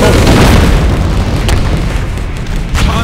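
Grenade blast in Road To Valor: World War II, a loud close boom with a heavy low rumble that decays over a few seconds, followed by fainter pops.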